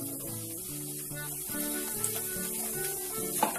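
Spices sizzle and fry in a pan for a cluster beans curry, a steady close crackle with faint stirring and clinks over background music.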